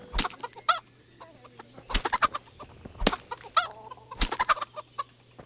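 Chickens in the medieval role-playing game Kingdom Come: Deliverance, clucking in repeated bursts with a few sharp squawks, fairly close and with no talking.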